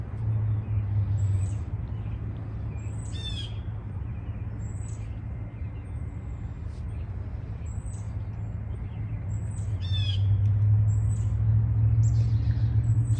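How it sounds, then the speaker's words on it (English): Birds chirp and sing outdoors in short, high, repeated calls, fairly distant, over a steady low rumble of passing traffic that swells toward the end. "So sitting out here and enjoying this, listening to the birds."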